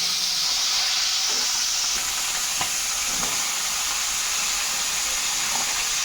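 Katla and Rohu fish heads sputter and crackle steadily in hot oil, a loud continuous frying hiss with a few sharper pops, no voices.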